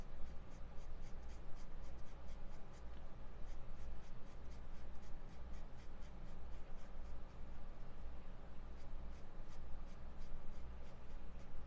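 Colored pencil sketches across paper in quick, steady, rhythmic scratchy strokes, close and soft, continuing without a break under a low background hum.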